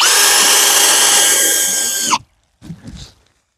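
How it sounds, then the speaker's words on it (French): A power drill whines loudly and steadily, driving a screw into a wooden beehive, then cuts off abruptly and is followed by a short lower burst of the motor. "On essaie de visser ça tight"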